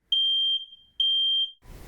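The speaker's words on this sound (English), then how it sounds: "She agreed to test out a voice recordable alarm." A voice-recordable smoke alarm sounds two loud, piercing beeps of about half a second each, evenly spaced and close, followed by a brief low rustle.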